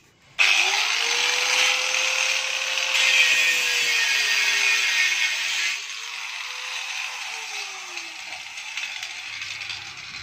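Power cutter with an abrasive disc cutting through iron, a loud sustained grinding screech starting abruptly after a brief pause, its pitch wavering as the blade bites, easing slightly midway and running to the end.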